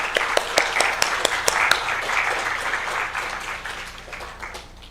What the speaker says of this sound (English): Please give them a warm welcome of applause.